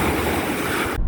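Surf and wind at the Atlantic Ocean shore, a steady broadband wash of waves with gusty wind buffeting the microphone, loud and continuous throughout before cutting off abruptly at the very end.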